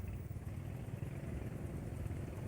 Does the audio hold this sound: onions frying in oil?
no